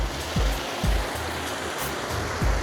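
Glacial meltwater stream running down from the mountains near Gilgit, Pakistan, a steady broadband rush of flowing water with a few low thumps, close and continuous, no voices.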